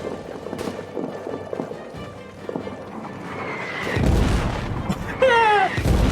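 Artillery shells crash down in a trench warfare game, with heavy low rumbling impacts building from about four seconds in, over a steady background of distant battle noise.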